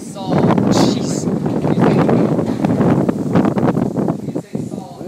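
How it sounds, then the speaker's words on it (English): Strong gusting wind in an Arizona thunderstorm roars and buffets the microphone continuously, loud and close throughout, with a voice speaking over it. "This wind is massively strong."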